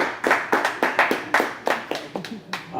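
Close, uneven hand claps sound at a wrestling comedy night, about a dozen sharp claps in a quick irregular rhythm from a small audience.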